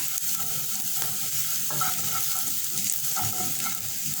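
Chicken pieces with chilli flakes are stirred in a pan over a continuous low sizzle, with soft scraping strokes and a few clinks of the spoon against the pan.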